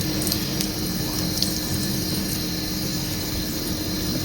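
Steady running water pours from a tap at a sink while hair is washed, a continuous close hiss and splash with a few small knocks and no talk.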